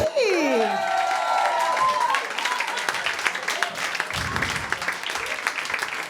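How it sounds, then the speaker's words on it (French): A comedy club audience applauds a performer, a dense mix of clapping and some cheering that follows a sung or spoken phrase and carries on at a steady level. "On peut applaudir Fanny."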